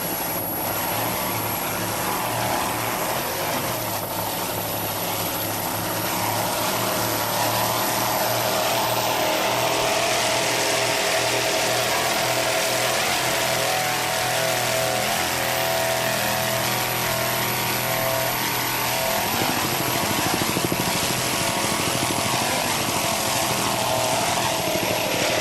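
Racing powerboat engine during an air show in Chicago, a loud, continuous roaring drone that holds steady throughout with slight swells in intensity.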